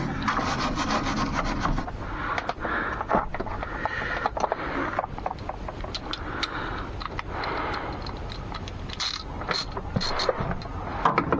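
Steady abrasive scrubbing and rubbing on rotted, corroded metal around bolts on a 1986 Toyota Sunrader, continuous and close with scraping strokes throughout.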